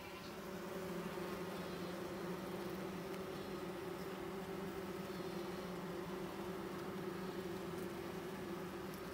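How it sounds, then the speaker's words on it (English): Honey bees inside an opened beehive make a constant, even buzzing hum heard up close, faint in level but steady throughout with no talking. "just to give you a sense of the noise inside the hive"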